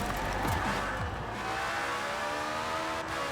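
An Ariel Atom engine screams around a circuit in Forza Horizon 4, revving up and down through quick gear changes with a faint tire squeal, loud and close.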